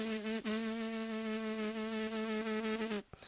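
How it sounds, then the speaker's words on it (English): A trumpet player's lips buzzing freely without a mouthpiece give a steady, close, reedy drone at one pitch for about three seconds before cutting off abruptly. "If I free buzz and touch my lower lip"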